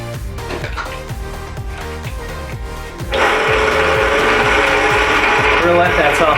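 Mascarpone cheese in the bowl of an electric stand mixer. A low rhythmic mechanical churning runs first, then jumps about three seconds in to a louder, steady whirring whine that carries on to the end.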